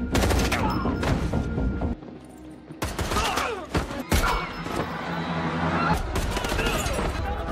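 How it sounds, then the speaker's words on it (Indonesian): Loud gunfire fills a film shootout inside a palace: dense bursts and sharp repeated shots with heavy thuds, pausing briefly before renewed volleys, set against a music score. "Baku tembak pun terjadi di dalam istana."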